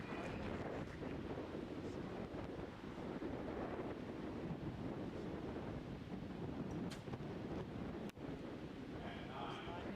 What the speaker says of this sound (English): the wind sounds dreadful out there, doesn't it?